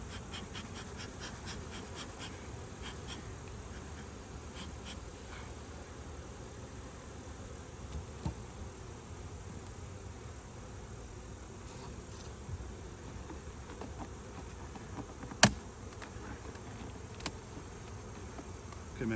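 Honeybees in an opened beehive fitted with an Apivar varroa strip give a steady, dense buzz that fills the whole stretch, with a single sharp click near the end.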